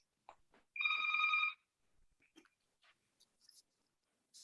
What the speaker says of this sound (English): Oh, there goes my landline.